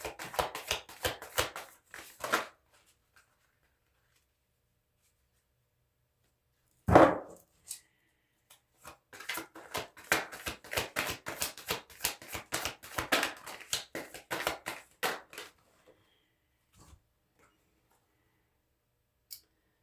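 Tarot cards are shuffled in bursts of rapid riffling clicks, close and fairly quiet, separated by pauses of near silence and one sharp thump partway through.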